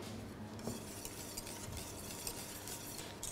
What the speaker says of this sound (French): Donc là, je mélange bien.